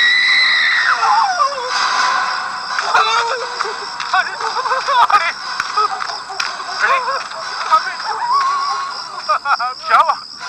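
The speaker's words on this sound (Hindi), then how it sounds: "कुछ चीखने की आवाज?" A high, wavering scream rises and falls over about ten seconds in an outdoor night setting, with shrill bursts and quieter gaps, fairly close and loud, with no talk over it.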